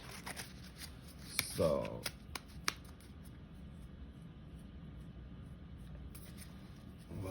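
Tarot cards are shuffled by hand in short riffling bursts with a few sharp snaps, followed by quiet; a person speaks briefly near the start.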